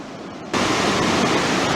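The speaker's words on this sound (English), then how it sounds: "This is Hell's Roaring Creek at its finest. Roaring through here." Hell's Roaring Creek rushing loudly, a broad steady roar of water that jumps up abruptly after a quieter half-second and then stays dense and unbroken.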